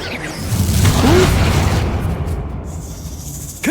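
A Bombarda blasting spell detonates in Hogwarts Legacy, a loud, heavy boom swelling into a long rumbling roar that slowly fades, with a brief whoosh and a sharp pop near the end.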